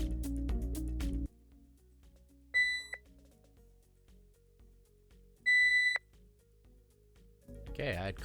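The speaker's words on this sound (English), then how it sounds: "set the alarm and see if we can hear the sound" A Clarity Wake Assure alarm clock gives two short bursts of high, rapid beeping a few seconds apart, close and loud, between quiet stretches with some talk at the edges.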